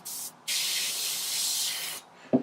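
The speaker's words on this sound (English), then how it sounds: "We'll just check that that's flowing all okay with a bit of airbrush filling in first from Vallejo." An airbrush spraying Vallejo paint, a close steady hiss in two bursts, a short one and then a longer one, ending in a small click.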